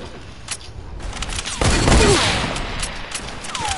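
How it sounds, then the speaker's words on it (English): Mixed gunfire from several players in an online shooter game, a busy layered volley that swells around the middle and then thins out, with no speech over it. "Wait, why is everyone shooting him?"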